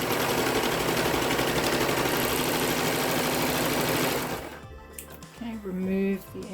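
Serger sewing machine running steadily as it stitches the fabric edges of a welding cap, a dense continuous whir that stops partway through, followed by quieter handling noises.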